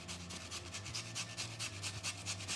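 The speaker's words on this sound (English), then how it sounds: "we've got our potato almost grated" A potato grated by hand for a Japanese dish, heard as quick rhythmic rasping strokes against the grater, close and moderately quiet, repeating steadily throughout with no voices.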